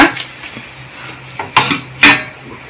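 A weight lifted off a preheated pot used for baking cakes, heard as a few sharp metallic clinks and knocks spread over a couple of seconds, close and fairly loud against a quiet background.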